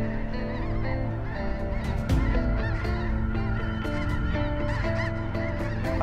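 A big flock of snow geese honks overhead during a hunt, a loud, layered chorus of many overlapping calls that swells and continues without a break.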